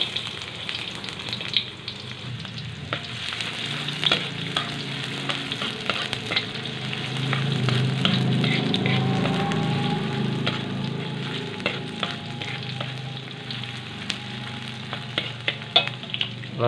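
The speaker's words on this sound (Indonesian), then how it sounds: "Setelah panas kita masukkan bawang merah." Shallots frying in hot oil, a steady close sizzle running throughout, broken by occasional sharp clicks and taps of a utensil against the pan.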